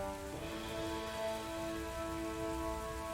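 Steady rain patters continuously during a tabletop role-playing session, a soft even hiss layered under sustained background music tones, with no voices.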